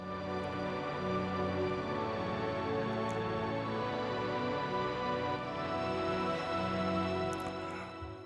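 Sustained chords from the Arturia CMI V synthesizer plugin on its Panorama preset, a soft, steady cinematic pad that holds evenly throughout at low level with no talking.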